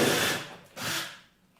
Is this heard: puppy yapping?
no